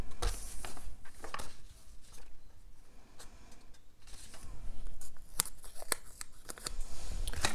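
Scissors snipping through paper while decorating a Happy Planner dashboard layout, a run of close, crisp cuts with small rustles of the sheet in between.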